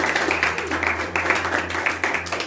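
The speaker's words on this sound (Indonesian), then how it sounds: "sekali lagi tepuk tangan dulu" Applause in a classroom or lecture setting, a dense stretch of many hands clapping together, fairly close and steady throughout.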